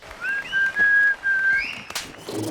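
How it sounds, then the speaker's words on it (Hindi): Close, loud whistling by a man: a few sustained rising and level notes over about two seconds, followed by a brief rustle, with no talk. "क्या सीटी बजा रहा है?"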